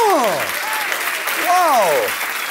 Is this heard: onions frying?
no